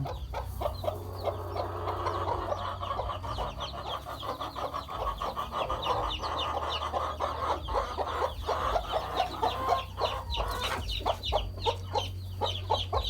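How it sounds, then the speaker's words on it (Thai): Chickens cluck steadily on a farm where young quail are also kept, a dense, continuous chorus of short clucks and calls close by with no talk. "มันจะมีไก่พันไข่นำ"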